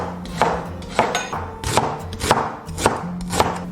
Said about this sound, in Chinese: 先把洗好的老姜切片